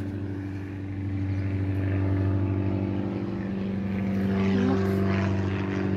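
A propeller airplane passing overhead near an airport, a steady droning engine hum with strong tonal whine that swells slightly as it passes, loud and continuous over an outdoor garden.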